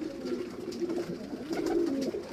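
Pigeons cooing inside a cage on a garden farm, a soft, steady series of low throaty coos that repeat close by without pause, with no voices over them.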